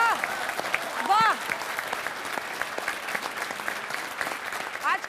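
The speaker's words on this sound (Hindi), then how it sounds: "तालियां दोनों के लिए" Steady applause from a studio audience for two poets at a televised Hindi poetry debate, continuous clapping with crowd murmur and a few whistles throughout.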